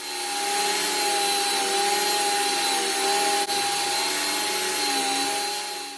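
A buffing wheel polishes a Tama Granstar Custom 11-inch drum shell, giving a steady, loud, close whir with a constant whine running unbroken throughout and no voices.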